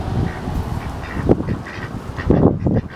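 Domestic ducks quack loudly and close by in repeated bursts of honking calls, with brief pauses between calls and no speech.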